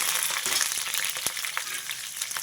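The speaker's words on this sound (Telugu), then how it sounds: "పోపు వేగిపోయింది" Three broken dried red chillies and curry leaves fry in hot oil for a tempering for gongura chutney, giving a soft, continuous crackling sizzle with scattered sharp pops.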